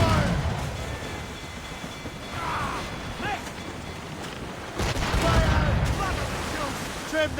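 Ship cannons firing in a naval battle in Assassin's Creed Rogue, a rumbling volley of booms and crackling blasts over churning sea and creaking noise, with shouted orders in between.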